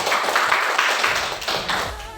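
Audience at a school program applauding, a burst of brisk, fairly close clapping with a rhythmic pulse that thins out toward the end.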